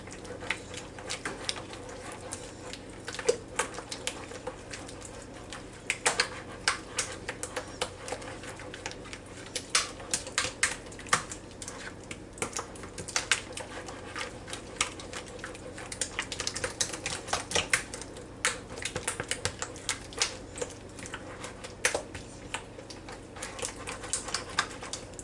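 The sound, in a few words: stirring squash, zucchini and carrot casserole with a spoon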